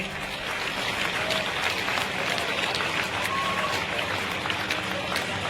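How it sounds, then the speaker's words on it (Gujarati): An audience applauds at a mass wedding of 101 brides in Adipur, a dense, continuous wash of clapping that stays loud and even throughout. "જોરદાર તાળીઓનો નાદ ચાલુ રહેવો જોઈએ"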